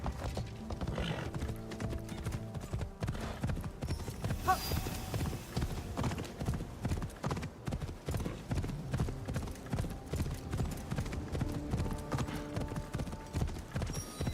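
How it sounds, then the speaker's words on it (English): Horse hooves clip-clop steadily in the Assassin's Creed Shadows video game, a rhythmic trot that runs the whole stretch alongside game music and an occasional whinny. "Call in the horse on the straights."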